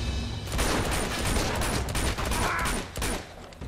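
Dense gunfire in the Uncharted 2 video game, a continuous loud burst of overlapping shots and impacts with a brief lull near the end, close and filling the whole moment.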